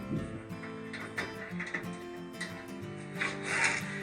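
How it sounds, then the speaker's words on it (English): A socket wrench backs out a screw with close, rapid ratcheting clicks and faint scraping, quiet and nearby with no voices over it. "we'll go ahead and unscrew this one totally"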